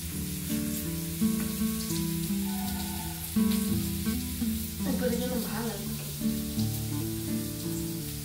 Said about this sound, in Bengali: এই যে আলু ভাজাটা চাপিয়ে দিয়েছি